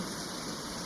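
Steady rain hisses evenly for a moment, a dense wash of falling drops with no other sounds.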